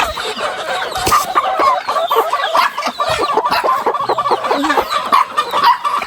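Several chickens clucking close by in a busy, overlapping chorus of short repeated calls, loud and continuous with no voices over them.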